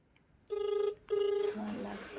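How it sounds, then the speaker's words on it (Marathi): Two long electronic ringing tones from a phone line in quick succession, followed by a voice starting to talk. "आता मी ह्यांच्या मोबाईलवरनं फोन लावला आहे ताईंना बघू राधूला बोलायला"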